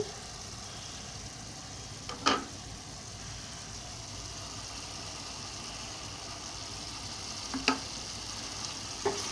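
A pan of mutton curry with a little garam masala is stirred over a low, steady frying hiss, broken twice by a sharp scrape or clink of the spoon against the pan.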